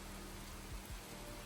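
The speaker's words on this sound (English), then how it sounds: "Life-changing torrential downpours at 4:38" A torrential rainy-season downpour in Cambodia pours as a dense, steady hiss of heavy rain, constant and fairly loud, with a few low thuds underneath and no voices.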